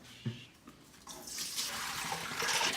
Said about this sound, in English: Step 1 again, fill up the pot.